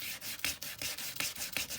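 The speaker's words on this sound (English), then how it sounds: "I'm just taking this little sanding circle thing" A small sanding disc rubs back and forth over an altered playing card in quick, rhythmic scratchy strokes, close and fairly loud, with no talking.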